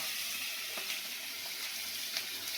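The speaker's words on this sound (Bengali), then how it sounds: "এইটা আমি এই ফুলকপি ভাজি করছি" Cauliflower fries in a pan with a soft, steady sizzle and crackle, fairly quiet and continuous, with a few brief stirring scrapes.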